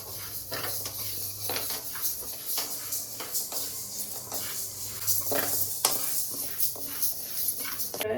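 Urad dal fries and is stirred in a pan, with a steady sizzle under repeated scraping strokes of a spoon against metal, close and continuous with no talking.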